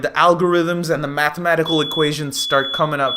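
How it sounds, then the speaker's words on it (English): A home fire alarm sounds a thin, steady high-pitched tone that starts partway through and keeps going under someone talking loudly and continuously. "That's my fire alarm."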